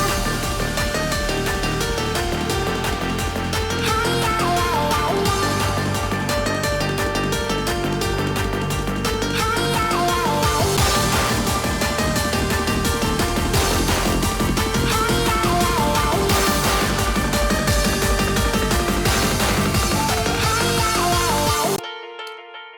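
A dancefloor 4x4 drum and bass track hits its drop section, with a dense wall of driving drums, heavy bass and synths that runs loud and steady, then cuts to silence at the very end.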